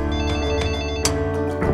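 Electronic telephone ringtone in a film scene, a steady tonal ring that repeats in short bursts, loud and close, with no talk over it.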